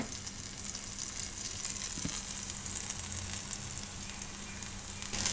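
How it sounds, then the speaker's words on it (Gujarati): A cheese onion paratha frying on a pan over medium gas, a steady, close sizzle holding at an even level throughout, with a faint tap midway and no voices. "બે બાજુ પકાવી લેવું આપણે એને મીડિયમ ગેસ રાખીને."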